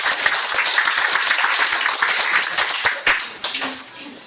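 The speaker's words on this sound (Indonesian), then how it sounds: "mari kita sambut dengan aplaus atau penghargaan yaitu Pak Steve" An audience claps at a product presentation event, a dense burst of applause with sharp individual claps standing out, tapering off and thinning in the final second.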